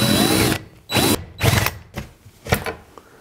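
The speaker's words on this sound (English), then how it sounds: "my spider hole saw bit loaded up. Let's drill it." A power drill with a spider hole saw bit cuts into an insulated interior wall in several short, loud, whining bursts separated by brief pauses.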